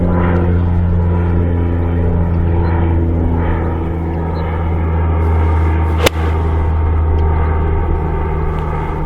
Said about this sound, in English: we've got a spotter aircraft now having a look around, so hopefully you can hear